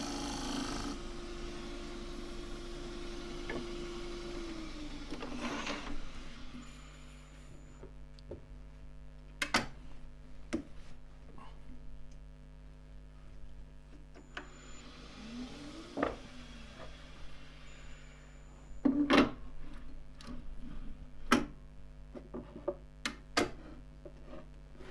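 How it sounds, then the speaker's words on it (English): A woodturning gouge shear scrapes green, very wet elm spinning on a lathe, a rough hissing scrape in two passes over the motor's steady hum, with scattered ticks and knocks. No talking. "Just shear scraping around there."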